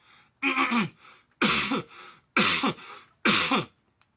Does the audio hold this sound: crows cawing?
no